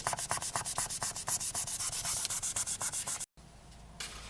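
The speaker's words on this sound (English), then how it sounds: "Then I like to go in and just burnish that flat as well" Rapid, rhythmic rubbing strokes as polymer clay is burnished flat, a dense series of close scratchy swipes that stop abruptly, followed by a quieter hiss.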